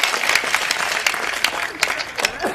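Audience applause at a comedy show, a loud, close burst of dense clapping with rhythmic accents, sustained throughout with some crowd noise mixed in.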